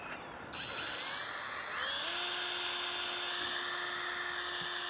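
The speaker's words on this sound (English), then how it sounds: "we take our drill that's got a hook on the end and we twist it" A power drill with a hook twists string for a tomato trellis, whirring up to a high steady whine and spinning on, its pitch sliding slightly as it strains, close and continuous.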